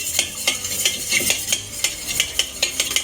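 Ingredients for a healthy recipe being mixed in a bowl with a utensil, giving a steady run of close, regular scraping and clinking strokes with no talk.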